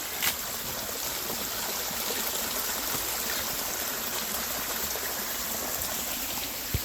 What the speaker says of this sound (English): Oh, nice little waterfall there.